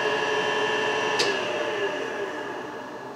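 A DoAll milling machine motor runs counterclockwise after its wiring was swapped, giving a steady close mechanical hum with whining tones and one brief clack partway through.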